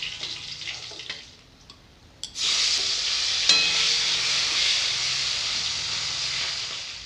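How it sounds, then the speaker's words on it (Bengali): Tangra fish fry in oil: a softer sizzle at first, then a loud, steady hiss that surges after a splash, with a few clinks of stirring. "এইভাবে সব মাছগুলো ভেজে নেব।"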